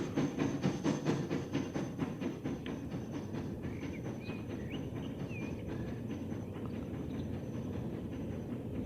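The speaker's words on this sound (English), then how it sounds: "So as this beautiful train comes out, red is just great on these trains." A red train departs in the Transport Fever simulation game, with a steady rolling rumble and regular clickety-clack beats throughout, fairly close and continuous, with faint high whistling tones partway through.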